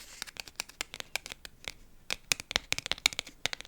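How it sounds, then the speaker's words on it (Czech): Fingers tap and click on the spines of books, heard up close as a quiet, irregular run of light, sharp taps that quicken into clustered bursts partway through. "Já mám hrozně ráda právě ťukání na hřbet knih."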